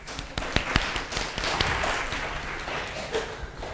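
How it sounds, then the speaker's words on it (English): An audience at a regional speaking final claps, with sharp scattered hand claps and a steady patter running throughout. "let's have a round of applause for that person."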